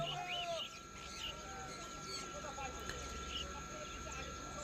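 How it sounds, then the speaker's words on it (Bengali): Sun conure parrots chirp and squawk in a busy pet bird market in Uluberia, with other birds and fowl in the background, while someone talks over them throughout. "এই খাঁচাটাতে এক পেয়ার সানকনুর আছে"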